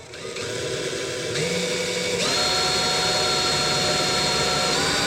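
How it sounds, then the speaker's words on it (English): A power drill whines steadily at high speed as it drills into metal for hood pins on a 1966 Ford Mustang, its pitch shifting slightly as it bites in, loud and continuous with no talking. "Start off slow so your drill bit doesn't walk a lot."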